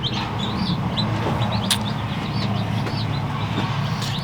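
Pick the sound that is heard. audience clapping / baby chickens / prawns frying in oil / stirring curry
baby chickens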